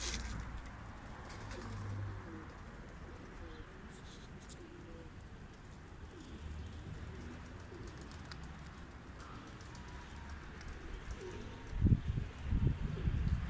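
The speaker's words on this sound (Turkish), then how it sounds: "Normalde bu Diyarbakır kuşları az mı uçar, çok mu uçar, ne kadar uçar saat olarak Ertan abi?" Diyarbakır pigeons cooing outdoors, soft repeated low coos over a light ambient background, with a louder burst of fluttering or handling noise near the end.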